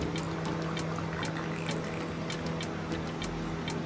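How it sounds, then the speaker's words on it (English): Water pours steadily through a car's sunroof drain hose, a continuous trickling flow with a few sharp splashes and a faint steady hum underneath. "Water is flowing, no restrictions."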